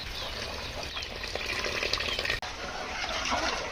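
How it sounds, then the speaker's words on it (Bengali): Water pours steadily into a pot of sautéed rice for mughlai-style chicken pulao, a full, continuous gushing splash with a brief break midway, close and fairly loud. "এখন চালটা সেদ্ধ হওয়ার জন্য পরিমাণ মতো পানি দিয়ে দেবো।"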